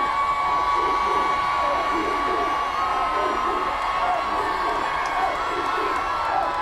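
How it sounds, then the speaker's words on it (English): High school football crowd at a Salina South versus Bishop Carroll game cheering steadily, a broad wash of many voices with shouts and whoops rising and falling, heard from within the stands. "Now the South crowd's getting into it."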